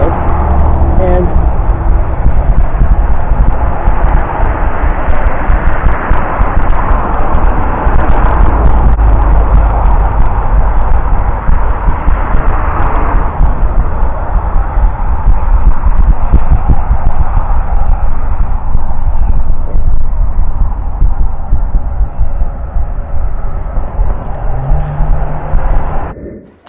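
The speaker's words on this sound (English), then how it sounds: "I can actually hear the rumble from the rocket now." A Falcon Heavy rocket launch heard from far away makes a deep, continuous low rumble that rolls on steadily, with wind buffeting and a voice talking over it.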